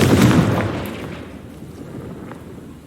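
Confringo fire spell blast in Hogwarts Legacy, a single loud booming burst up close that fades away over a couple of seconds with no talk.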